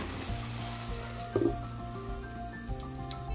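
Quiet continuous sizzling and bubbling from eggplant chutney in a covered pan on the heat, with a soft tap partway through and a low hum underneath.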